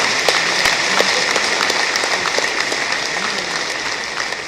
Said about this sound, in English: let's generate a millennial round of applause for him